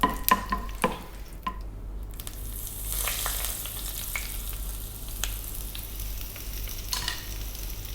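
Food is tossed briefly in a pan over very high heat while cucumber raita is being made, giving a steady close sizzle with scattered clicks and scrapes from stirring.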